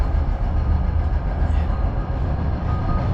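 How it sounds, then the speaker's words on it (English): A Calgary C-Train on the surface line rolls past in a steady, loud, close rumble of wheels and rail noise that holds throughout without talk. "Oh, here we go. Sea train coming. This is the surface line."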